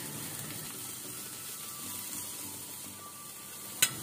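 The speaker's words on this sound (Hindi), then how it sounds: "फ्राई करेंगे ताकि ये थोड़ी सी नरम हो जाए।" Chicken spring roll filling vegetables frying gently in a pan over low heat, a steady soft sizzle throughout with one brief clink near the end.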